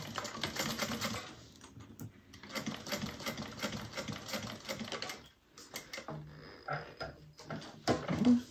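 Domestic sewing machine running in steady bursts while top stitching a fabric bag at an eighth-inch seam, with short pauses between runs and a brief clack near the end.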